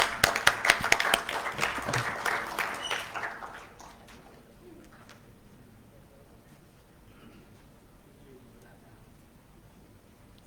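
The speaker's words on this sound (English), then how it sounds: "Please, a warm round of applause for her." Audience applause in a university design lecture hall, a burst of clapping for about three seconds that quickly dies away into quiet room tone.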